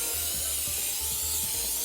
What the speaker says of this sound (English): You take this little cooking spray